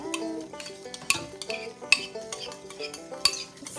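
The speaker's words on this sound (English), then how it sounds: "So now we're going to mix all of this." A spoon stirs yogurt for a homemade cake in a bowl, scraping steadily with sharp clinks against the side every second or so, close and alone without talk.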